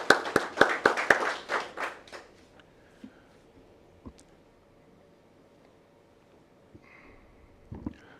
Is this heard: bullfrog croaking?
no